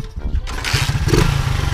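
A Honda Titan KS 125 motorcycle engine running without its air filter and fitted with a competition CDI, with a loud, steady low idle rumble of rapid firing pulses that starts up partway through and keeps going.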